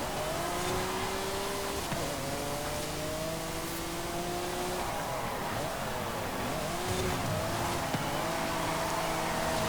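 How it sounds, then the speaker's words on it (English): A Ferrari V12 engine in the video game Forza Horizon 5 roars continuously at high revs, pitch climbing and dropping through gear shifts, loud and close throughout. "the sound of its V12"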